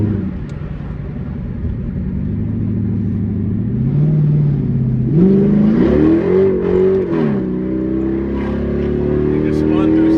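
Dodge Charger 5.7L HEMI accelerating hard with wheelspin in second gear, a loud close engine roar rising in pitch, dipping at a shift, then climbing again; a voice is heard over the engine.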